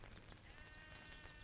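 Sheep bleat faintly in the distance over a low background wash, with no one talking.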